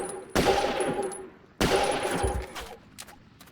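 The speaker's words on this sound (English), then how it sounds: "And we're gonna keep shooting them." Automatic weapon fire in the Battlefield video game, two loud sustained bursts of rapid shots, close and dense, with a short gap between and quieter distant pops trailing after.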